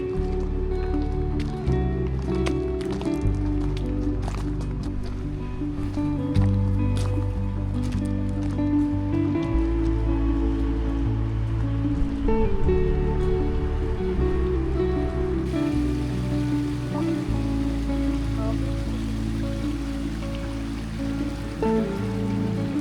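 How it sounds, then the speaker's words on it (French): A small waterfall in a water garden pours steadily, a continuous close rushing and splashing of water filling the whole stretch without pause. "Donc là, il y a la petite cascade."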